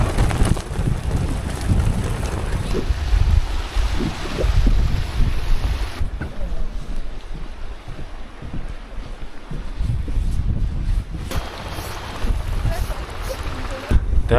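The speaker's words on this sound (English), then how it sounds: "Quite windy though." Strong gusty wind buffets the microphone in loud, continuous rumbling roars, easing briefly midway before blowing hard again, at a canyon in China while cycling.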